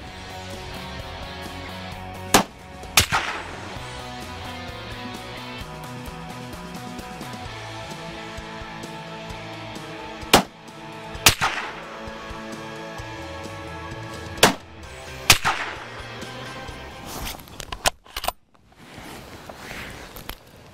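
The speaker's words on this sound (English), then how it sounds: "I'm going to put a 3-round group downrange at 100 meters to see how tight we can get this firearm to group" Three sharp, loud shots from a Remington 700 VTR bolt-action precision rifle, fired as a group at a 100-meter target, each crack standing out clearly against steady background noise with long pauses between them.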